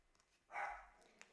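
A single muffled dog bark sounds from another room, brief and fairly faint against a quiet indoor background.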